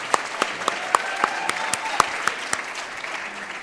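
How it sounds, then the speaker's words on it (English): A conference audience at a closing session claps for Qatar, a dense, steady round of applause with individual sharp hand claps standing out near the front. "Let's clap for Qatar."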